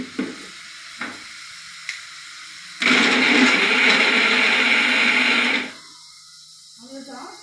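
Mixer grinder blending tomatoes in a home kitchen, a loud whirring burst lasting a few seconds after some brief clicks, then stopping, with a voice speaking faintly around it.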